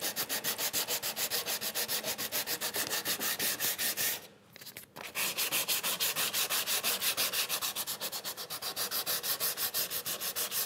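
A hand sanding block with 150 grit sandpaper rubs along a wooden edge during a workbench build. The strokes are steady, rhythmic and close, with a brief pause midway and no talking.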